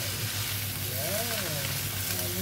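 Pancit canton and bihon noodles with cabbage sizzle and crackle in a hot pan as they are stirred and tossed, a steady close frying hiss with soft scraping.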